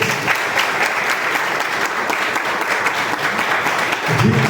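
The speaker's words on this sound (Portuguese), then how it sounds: "Pode aplaudir aí." A church congregation applauds in a long, loud, dense burst of clapping that holds steady throughout, with a voice joining in near the end.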